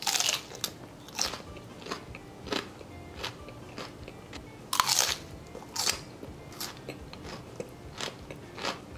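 A large homegrown bell pepper, raw and crisp, bitten and chewed up close: a series of sharp crunches recurring about once a second, fairly quiet, with no voices.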